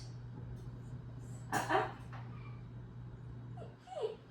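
A dog lets out a few soft, high whines close by, with a brief louder yelp in the middle over a low steady hum.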